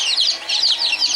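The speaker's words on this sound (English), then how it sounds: "So this is what little baby chickens," Day-old Barred Rock and Silver Laced Wyandotte chicks in a feeding frenzy, a steady, close chorus of high, rapid peeping chirps that overlap continuously with no talking.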